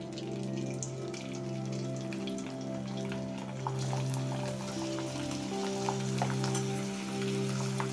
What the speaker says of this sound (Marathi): हे तेल आपलं कडकडीत गरम झालेलं आहे। तर याच्यामध्ये हे आपण पापड टाकून बघूया।